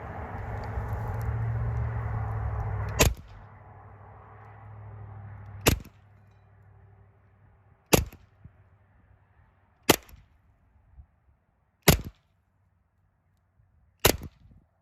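An EMG SAI 2011 DS airsoft pistol on CO2 magazines fires 0.28 g BBs through a chronograph: six sharp, close pops about two seconds apart, the first cutting through a steady background rumble that then fades to near silence.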